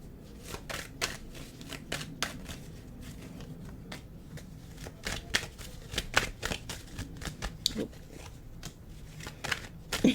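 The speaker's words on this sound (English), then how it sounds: "I just realized I didn't shuffle tarot for you." Tarot cards shuffled again and again in quick riffling bursts, close and fairly quiet, with soft handling noises between them.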